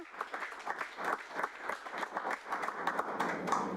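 Church congregation applauding loudly and steadily throughout, a dense wash of many hands clapping with a few faint voices mixed in.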